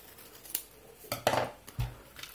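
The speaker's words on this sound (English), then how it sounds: "Maybe you can also cut a small part here, like this." A small piece of the Raspiboy handheld assembly is cut, giving a few short, sharp snips and clicks spread over a couple of seconds, fairly close and quiet with no voices.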